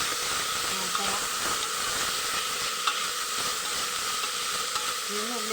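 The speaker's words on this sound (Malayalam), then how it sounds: "ഇന്ന് ഉള്ളി വാട്ടാം." Onions sautéing in a hot pan with bay leaf and curry leaves, giving a steady, close sizzle and hiss that runs throughout, with a few faint stirring clinks.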